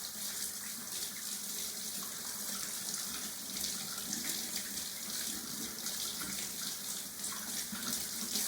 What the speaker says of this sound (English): stick them back under the water and wash all that soap off